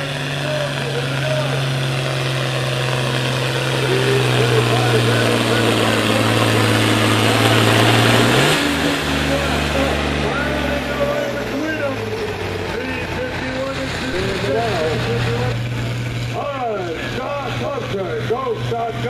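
Loud 15,000 lb farm tractor engine during a tractor pull, a sustained heavy drone that swells and shifts pitch around the middle, with an announcer talking over it and crowd noise.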